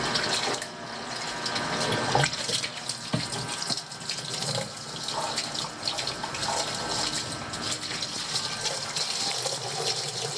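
Running water rinsing out a washing machine filter under a tap, a continuous close splashing gush with brief louder spatters as the filter is moved through the stream.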